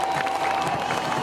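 A crowd at a Hollywood Studios show at Walt Disney World cheers and applauds, a steady dense wash of noise with faint voices mixed in, close and continuous.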